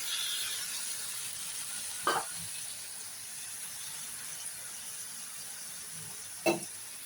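Poppy-seed water rinsed from a grinder jar goes into a hot pan while pui shak with posto is cooking, leaving a faint steady hiss broken by two brief louder splashy bursts, with no talking.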